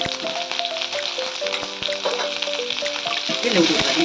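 Sliced onions and a bay leaf fry in hot oil in a pan, giving a steady, close sizzle with crackling pops that grows busier toward the end.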